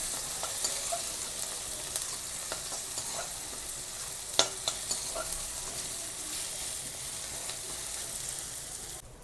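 Snake gourd fries in a pan, a soft, steady sizzle under repeated scraping stirs and a sharp clack near the middle, heard close up with no talk.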